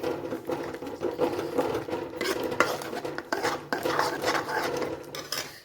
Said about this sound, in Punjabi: ਇਸ ਵਿੱਚ ਐਡ ਕਰਾਂਗੇ ਆਪਾਂ 2 ਚਮਚੇ ਮਲਾਈ ਦੇ ਇਸ ਨੂੰ ਚੰਗੀ ਤਰ੍ਹਾਂ ਮਿਕਸ ਕਰਾਂਗੇ